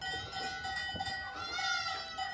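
Goats bleating on a farm, one of a herd of about 300 head, with several wavering cries close by over steady background noise and faint clanking.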